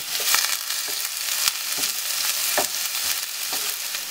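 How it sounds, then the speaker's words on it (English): Onion and garlic fry in a hot pan with a loud, steady sizzle, broken by irregular sharp pops and stirring clicks, close up with no talking. "once the pan is nice and hot, we're just gonna add in our onion and our garlic"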